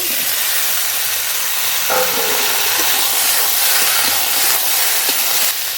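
Drumstick pieces and chopped tomato hitting hot oil with nearly fried potatoes in a pan, a loud, steady broadband sizzle and hiss throughout, with a brief clatter near the start and no talking.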